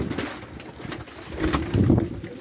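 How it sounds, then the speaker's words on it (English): A white pigeon coos in a loft, low soft rolling coos repeating close by with a fuller swell toward the end, alongside light rustling and room noise. "I want to show you a pigeon."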